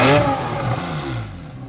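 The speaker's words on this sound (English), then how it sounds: "what makes the biggest difference is the sports exhaust. I've just switched on the valves." A Porsche 911 Carrera S (991.1) with its sports exhaust valves open gives a loud, close rev that peaks at the start and then eases into a throaty, fading engine note.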